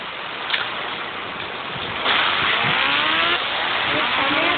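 A Hayabusa motorcycle engine in a video game drones steadily, its pitch climbing as it revs up and the bike accelerates, with a dull rush of background noise.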